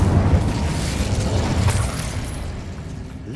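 Incendio fire spell in the Hogwarts Legacy video game, a short explosive whoosh of flame that fades over a couple of seconds amid busy game sound.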